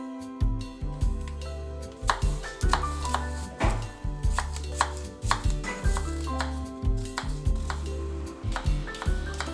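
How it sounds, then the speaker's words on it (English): A knife chops Royal Gala apples on a cutting board, sharp rhythmic thuds in quick irregular bursts, close and clear, with soft music underneath. "For the apple pie topping, I'm chopping some apples."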